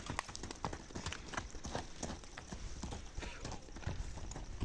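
A mare's hooves clip-clop in quick, irregular steps on the ground in a village, close and busy throughout, with a faint murmur of voices in the background.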